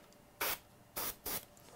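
A Badger airbrush sprays blue paint in three short, soft bursts of airy hiss, close and quiet, separated by near silence.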